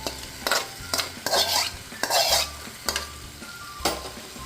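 A spoon stirs a peanut chutney mixture around a pan on the stove, making repeated scraping strokes about every half second, close and clear, with a light sizzle underneath and no talking.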